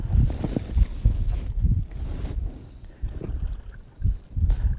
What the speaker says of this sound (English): So the wind is blowing me closer to this bank now.